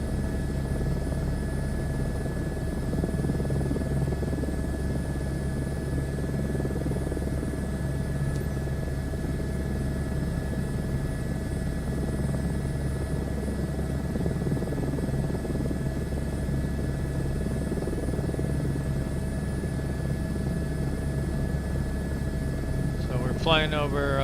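A helicopter in Microsoft Flight Simulator 2024, flying over New Zealand, gives a steady, continuous rotor and engine drone for the whole stretch while someone talks over it.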